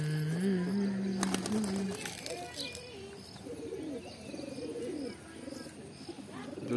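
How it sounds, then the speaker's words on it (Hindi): Several pigeons coo in low, rolling calls nearby, with a few brief chirps and a sharp clatter early on, while someone speaks quietly over them. "ये कबूतर"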